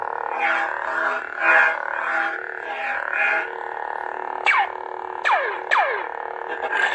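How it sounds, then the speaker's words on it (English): Humming electronic buzzing swells and pulses, then a few sharp descending zaps cut through, like toy lightsaber swings, with no talking. "it sounds too much like Ezra's lightsaber."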